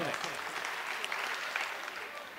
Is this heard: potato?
no